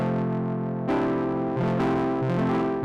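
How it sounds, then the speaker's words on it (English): A Serum 2 synth patch with distortion placed on the effects bus, a loud, thick, muddy buzzing tone with overlapping sustained notes that shift pitch in steps, continuous throughout with no speech. "if I just slap that distortion at the end on the effects bus, I get something that's really muddy."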